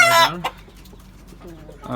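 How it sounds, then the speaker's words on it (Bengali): Rooftop-raised farm chickens cluck and squawk nearby, with a loud burst at the start, scattered softer clucks through the middle, and another loud call at the end. "ফার্মের মোরগ"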